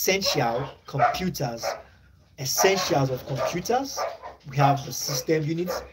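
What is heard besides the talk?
neighbouring dog barking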